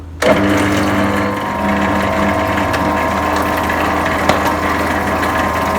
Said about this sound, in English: So we will blend this for about 20 seconds